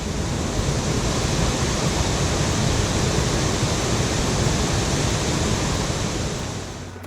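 A river rushing over the upper falls of a waterfall, a dense, unbroken roar of flowing water at close range that holds steady before easing slightly at the end.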